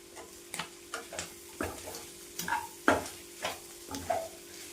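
Boti (offal) pieces frying with garam masala in a Telangana-style boti fry, a soft steady sizzle broken by regular scraping stirs of the spoon against the pan, close by, with no talk.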